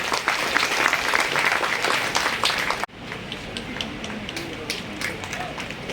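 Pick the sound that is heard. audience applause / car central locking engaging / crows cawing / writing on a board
audience applause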